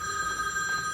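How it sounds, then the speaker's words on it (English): A telephone rings in a shop where dynamometers are sold and tuned, giving a steady electronic bell tone that fills the whole second at moderate loudness, with no talk over it. "let's answer the phone."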